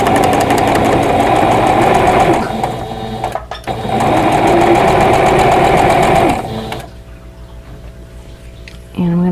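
Sewing machine chain piecing quilt block pieces, its motor whirring loud and steady in two long runs with a brief pause between, then stopping to a quiet hum with small clicks.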